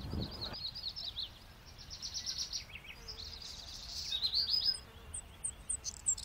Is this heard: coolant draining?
no